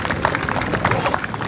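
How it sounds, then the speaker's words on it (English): Audience applause at a school annual day celebration, honoring school staff: a short, dense burst of many hands clapping in a crowded hall, loud and continuous throughout. "Please give a big clap for them."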